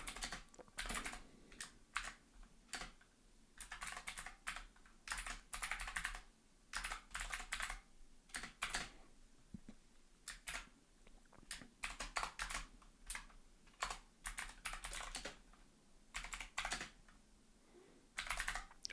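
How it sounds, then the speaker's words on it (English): Shader code typed on a computer keyboard in quick irregular bursts of clacking keystrokes with short pauses between runs, close and clear, no talking. "So we can literally just type this in right now"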